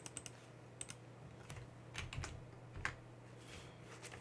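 Fingers tap commands on a computer keyboard in a Linux terminal, with scattered quiet clicks in short irregular bursts over a faint background hum and no talking.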